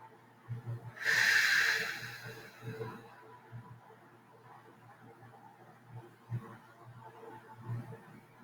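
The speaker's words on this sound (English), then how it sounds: "Exhale 2 more times." A strong breathy exhale around the second second stands out during a quiet guided healing session, followed by softer breaths and faint low murmurs through the rest.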